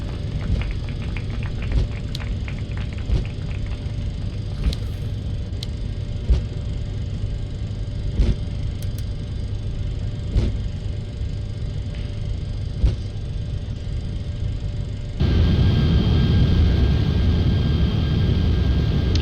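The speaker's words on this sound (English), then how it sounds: "Reverse thrust deployed." An airliner lands in the X-Plane flight simulator with reverse thrust deployed, a steady engine rumble and roll noise with small clicks, swelling abruptly into a louder, harsher roar near the end.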